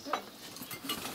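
Metal spoons clink faintly a few times as they are passed from hand to hand, a brief, quiet tinkle with no voices.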